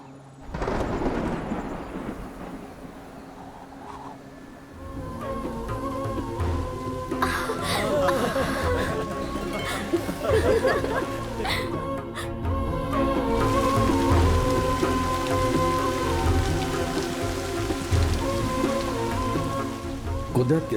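Heavy rain falls steadily in a forest while thunder rumbles and cracks, the downpour building in intensity and continuing loudly throughout.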